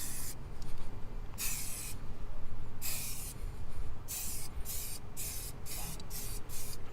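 An aerosol can sprays plastic dressing across a car's engine bay in short repeated bursts, each a loud close hiss separated by brief pauses as the nozzle is released, the bursts coming quicker toward the end.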